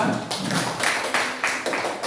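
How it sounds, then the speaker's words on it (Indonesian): A classroom claps for a student group in a short burst of patterned, rhythmic clapping: several quick pulses repeating in a steady beat across about two seconds, fairly close and even. "kita tepuk tangan untuk kelompok 2"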